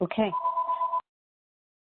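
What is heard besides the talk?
telephone in the background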